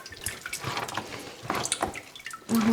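Whey drains from homemade cottage cheese being pressed and twisted by hand in a monastery kitchen, giving close, irregular trickles, drips and small splashes.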